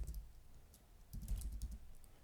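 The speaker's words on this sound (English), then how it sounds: "let's go ahead and type in" Quiet typing on a computer keyboard, a short run of soft key clicks in a brief burst, close but faint, no talk.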